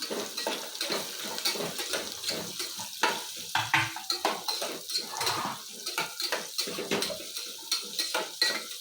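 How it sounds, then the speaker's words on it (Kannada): Onion and carrot fry in hot oil in a pan, with repeated clinks of a metal spoon stirring against the pan over a soft sizzle, close and without speech. "ಈ ರೀತಿ ಫ್ರೈ ಮಾಡ್ಕೊತಾ ಇದ್ದೀನಿ"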